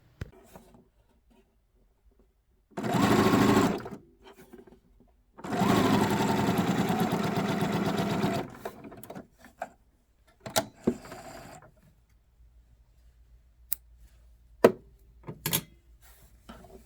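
A sewing machine stitching shirring rows into a skirt runs in two bursts, one short and one about three seconds long, followed by scattered clicks and handling noises.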